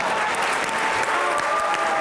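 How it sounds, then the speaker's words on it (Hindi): Audience at a poetry recital breaking into sustained applause, dense clapping from a crowd that holds steady and loud from start to finish. "बहुत ज्यादा तालियां बजनी चाहिए।"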